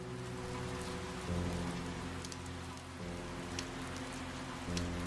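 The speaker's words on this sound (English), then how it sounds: "You closed your eyes and felt the raindrops gently pattering against your face." Rain falling at night beside a bus shelter, a steady hiss of drops with a low, constant hum underneath, moderately quiet and unbroken throughout.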